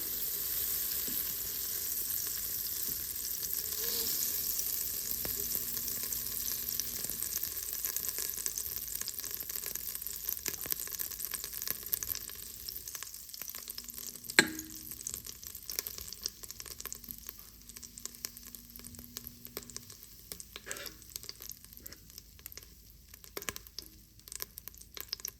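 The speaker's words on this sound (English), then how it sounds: "Put it in the Instant Pot, melt the butter." Butter melts and sizzles in an Instant Pot set to saute, a faint, steady frying hiss that goes on for a long time, broken by a few small clinks and stirring noises.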